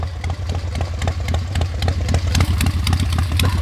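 A 1973 Harley-Davidson XLCH1000 Sportster with its iron-head engine runs at a loud, close idle, a fast and even lumpy thump with no voices over it.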